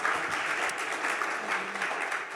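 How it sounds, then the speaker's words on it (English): A roundtable audience at a wildfire report-out claps steadily together, a dense, even wash of applause filling the room for a couple of seconds with no talk over it. "I want to give Jason a round of applause"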